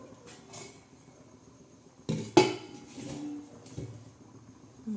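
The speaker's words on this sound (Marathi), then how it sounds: "झाकण ठेवूया पातेल्यावर" A lid set down on a pot of chicken pulao in a home kitchen gives a sharp metallic clank with a short rattle, standing out against quiet kitchen background noise. No one speaks.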